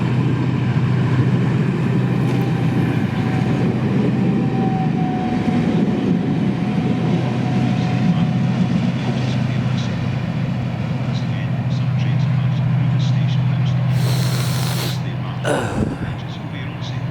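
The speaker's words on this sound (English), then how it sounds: "What's coming through now is 2K41, the 1712 from Edinburgh Waverley to Kirkcaldy. Another pair of 158s." A pair of ScotRail Class 158 diesel units passes through South Gyle, a sustained low rumble and engine drone holding steady throughout, with brief clatter near the end.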